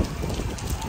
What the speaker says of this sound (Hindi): मजा ये वाली बारिश मजे की है ना ज्यादा तेज है।